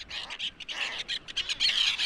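Bird caught on a fishing line at low tide, giving repeated harsh, bright squawking calls in quick irregular bursts, fairly close and moderately loud with no talk.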